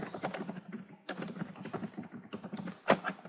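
Someone types CSS code on a computer keyboard nearby, with rapid, irregular keystrokes broken by short pauses and one sharper clack near the end.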